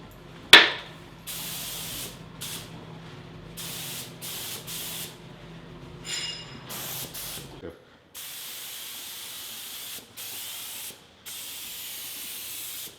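Disinfectant sprayed in quick misting bursts over sinks, door handles and light switches at a station, a sharp hiss followed by repeated short puffs of mist with brief pauses between them, with voices faintly underneath.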